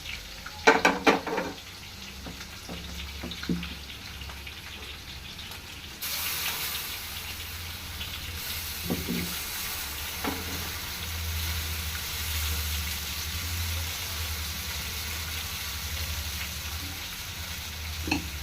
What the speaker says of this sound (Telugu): ఇప్పుడు మనం పెసరట్టు వేసుకుందాం